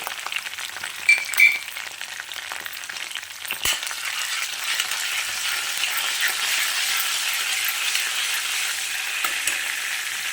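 Curry leaves, cumin and mustard seeds sizzle in hot oil with a steady, close hiss throughout, a few brief clinks near the start and no talking.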